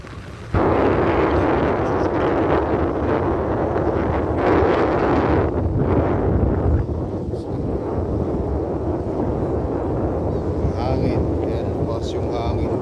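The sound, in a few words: wind blowing while fishing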